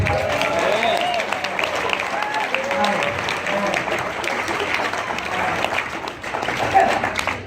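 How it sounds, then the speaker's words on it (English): A comedy club audience claps at the end of a stand-up set, the applause mixed with crowd murmur and a few voices, steady and moderately loud throughout before a short swell near the close. "Can I get a round of applause"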